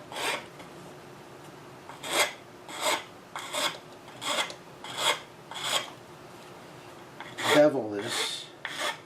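Rasp rounding off the end of a wooden Queen Anne chair part, about ten rough rhythmic strokes, close and moderately loud, with a quicker scraping flurry near the end.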